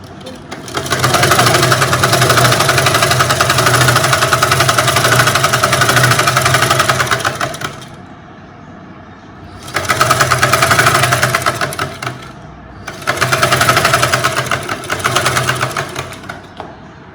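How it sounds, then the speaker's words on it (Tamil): A sewing machine stitches a lined top in three bursts of steady, fast, close mechanical whirring, the first running about eight seconds, separated by short quiet pauses. "அவ்வளோதான், டாப் தச்சு முடிஞ்சாச்சு."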